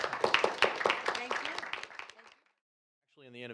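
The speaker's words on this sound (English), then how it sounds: "So big round of applause for the senior panel." Applause for a senior panel at a summit breaks out as a short burst of scattered clapping that fades over about two seconds, followed by silence and then a voice starting to speak.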